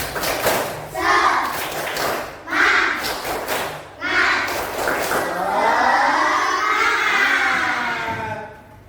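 Schoolchildren in a classroom do a rhythmic spirit clap, with bursts of clapping and chanted voices in a repeating pattern, ending in a longer stretch of cheering and shouting.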